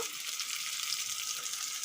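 Papaya pieces frying in a pan, a soft, even, high hiss of sizzling oil holding steady without voices.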